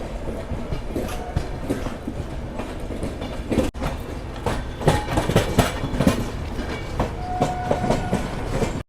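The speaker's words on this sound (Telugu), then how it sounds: "విజయవాడ నుంచి ఏదో ట్రైన్ అయితే వస్తుంది. Southern railways locomotive WFP7 locomotive" A train hauled by a Southern Railways WFP7 locomotive passes close by near Vijayawada, with a loud, sustained rumble and rhythmic clickety-clack of wheels over rail joints, plus a brief tonal squeal near the end.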